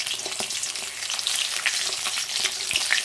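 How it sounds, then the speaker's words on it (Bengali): Fish heads fry in a pan with a steady, close sizzle and crackle, dense popping spatter throughout with a few stirring knocks. "এখানে যে মাছের মাথাগুলো ভেজে নিচ্ছি"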